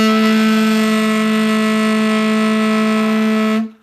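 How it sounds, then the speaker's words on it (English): A saxophone holds one loud, buzzy growled note close up, rough and raspy with a steady pitch for over three seconds before stopping abruptly. "that is when you make your saxophone sound like this"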